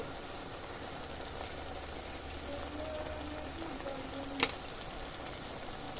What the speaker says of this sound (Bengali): এবার ভালো করে কষিয়ে নিতে হবে